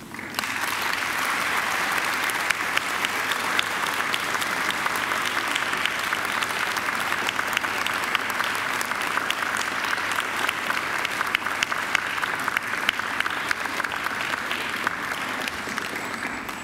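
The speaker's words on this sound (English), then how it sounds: "now I invite you to give them a mighty round of applause" An audience at a university graduation ceremony gives a long, even round of applause for families and friends. Dense clapping fills the hall for over fifteen seconds, loud and sustained, with a faint crowd murmur under it.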